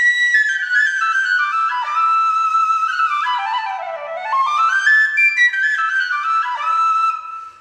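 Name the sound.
McManus tin whistle of Spanish olive wood being played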